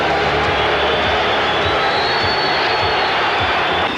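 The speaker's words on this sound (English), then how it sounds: "The buzzing you hear in the crowd is Larry Bird going to the free throw line" Basketball arena crowd buzzes with a loud, continuous murmur as Larry Bird steps to the free throw line, a dense roar filling the space with no single voice standing out.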